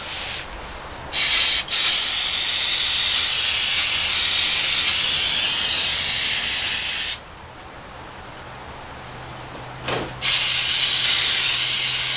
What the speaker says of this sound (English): Give her a really nice little spritz with the Worth multi-purpose solvent.